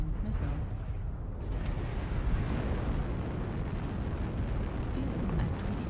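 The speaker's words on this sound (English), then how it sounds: "Incoming missile" Missile blasts in MechWarrior Online form a continuous loud, rumbling explosive roar with bursts layered over dense low-end noise, sustained throughout.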